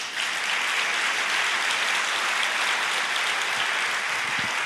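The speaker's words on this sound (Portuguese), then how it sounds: "Você pode aplaudir o Senhor." A church congregation applauds during a sermon, a dense, steady wash of clapping filling the room at an even level from start to finish, with no voice heard over it.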